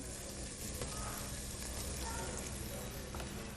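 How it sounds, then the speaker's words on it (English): Tomatoes and onions frying in a pan give a steady, dense sizzle with faint crackles throughout, fairly close, with no talk over it. "My tomatoes, my onions are sizzling away quite nicely."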